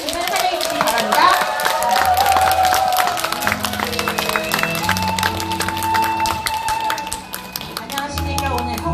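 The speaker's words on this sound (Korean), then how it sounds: "큰 박수로 이영 영공자의 신 사장님을 환영해 주시기 바랍니다" A seminar audience claps and cheers to welcome a speaker on stage, sustained applause running throughout, mixed with a voice and steady background music.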